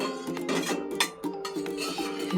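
Boiled cauliflower florets being moved onto a plate, with a few light clinks and scrapes of utensil against dish, close and quiet, over a steady kitchen background.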